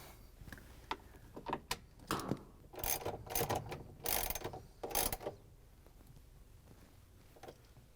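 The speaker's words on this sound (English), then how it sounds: "We're going to use the ratchet with the extension and the 3/8" socket to put in the bolts." A ratchet wrench fitted with an extension and a 3/8-inch socket clicks in quick bursts while driving bolts back into a GE washing machine, faint and close, with short pauses between strokes.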